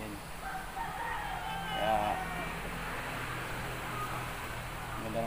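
A backyard game fowl rooster of a winning breeding line crows amid steady farmyard noise, a single drawn-out call in the middle of the clip over a continuous background, with a brief spoken word.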